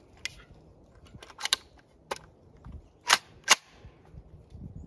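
A test shot from an ARK firearm chambered with one 115 grain round comes as a sharp crack among several quieter clicks and handling taps, with two loud snaps standing out near the end.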